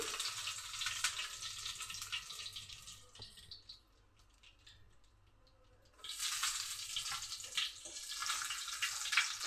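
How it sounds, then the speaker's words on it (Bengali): Dry red chillies and bay leaves sizzle in hot oil in a wok for a Bengali taro dish, a broad hissing crackle that eases off in the middle and then surges back loud and steady. "এখন কড়াতে আমি শুকনো লঙ্কা আর তেজপাতা দিয়ে দিচ্ছি"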